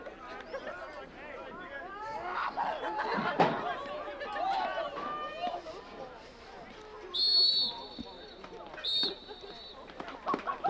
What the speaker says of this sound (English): This referee on the near side had the whistle.